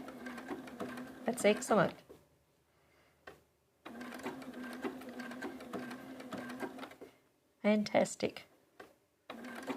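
A sewing machine runs a blanket stitch appliqué in steady rhythmic bursts, stopping and restarting a few times, while people talk briefly between runs.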